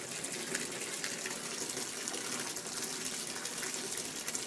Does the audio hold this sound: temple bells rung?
no